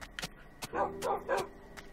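Dogs bark in a quick series of short, sharp barks at close range, with small gaps between the bursts and no talking over them.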